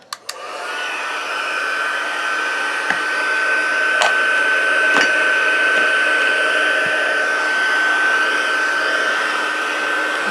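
Heat embossing tool blowing hot air on a stamped card, a steady loud whirring rush with a constant high whine that holds for the whole stretch, with a couple of faint clicks.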